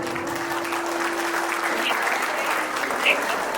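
Children clapping together in an abacus class, a steady even patter of many small hands, continuous and moderately loud, with a faint constant hum beneath and a couple of brief higher sounds.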